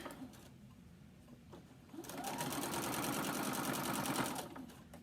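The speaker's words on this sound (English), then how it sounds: "we're just going to keep sewing all the way around" A sewing machine stitches around the edge of a mini quilt. After a quiet start it runs as a close, steady, rapid mechanical buzz for a couple of seconds, then slows and stops.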